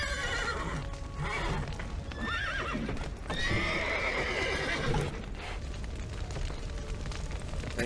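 Horses in The Witcher 3 neigh and whinny loudly over steady clip-clopping hooves, with a rumbling game soundscape running continuously underneath.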